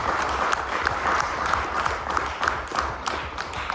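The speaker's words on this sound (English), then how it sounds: "let's give Paul a big round of applause, everyone" Audience applause at the close of an alumni speaker talk on networking at a university AI club event, steady clapping from a room full of people throughout.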